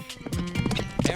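Galloping horse hooves pound in a rapid clip-clop rhythm during a horseback archery run, close and loud, with a horse's whinny and some voices mixed in.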